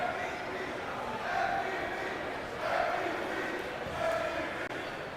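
Basketball crowd at a Sarachek tournament qualifier game, chanting 'MVP' in a steady rhythmic swell during a missed free throw, a dense roar of many voices filling the gym with repeated rises.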